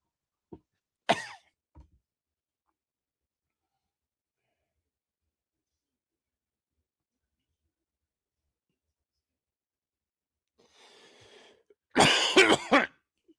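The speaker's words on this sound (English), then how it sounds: "Sometimes I wonder if I'm suffering from a chest infection resulting in this recurring cough" A baseball broadcast announcer coughs into the microphone during a Mets versus Phillies game, one short early cough, then a louder cluster of hacking coughs near the end, with near silence between.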